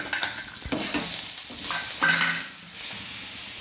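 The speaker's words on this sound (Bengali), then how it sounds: "এই পর্যায়ে আমি কাঁচা লঙ্কা আর টমেটো দিয়ে আর একটু ভেজে নেব" Green chilies and tomato fry with browned onions in a pan, sizzling steadily up close while a spatula stirs and scrapes in bursts, with no talking.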